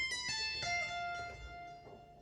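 A soft preenFM2 synthesizer plays a few bell-like notes in quick succession, each ringing clearly and fading slowly.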